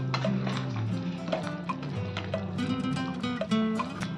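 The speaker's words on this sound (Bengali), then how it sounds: "পাঁচ মিনিট পর এবার আমি নেড়ে দিলাম।" Chicken tikka masala with large pieces of meat is stirred in a pot, giving repeated scraping and clinking of a utensil against the metal along with soft bubbling, close and clear, with no talk.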